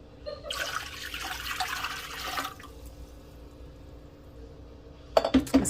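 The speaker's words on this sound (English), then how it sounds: "I'm going to put a couple of quarts of water in here." Water from a tap splashes steadily into a canning pot for about two seconds, then it goes quiet except for a low hum, and a few sharp glassy clinks follow near the end.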